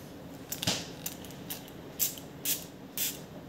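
Short hiss bursts from a spray bottle of hair treatment serum, four or five separate pumps spaced about half a second apart, close by, with faint handling clicks between them and no talk.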